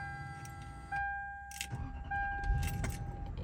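A 1999 Lexus GS400 with a newly replaced starter cranks briefly and then catches, settling into a steady idle with a high whine riding on top, close and fairly loud, with a few clicks and knocks nearby.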